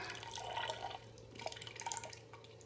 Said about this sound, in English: that'll drip that last little bit out of that while it's cooling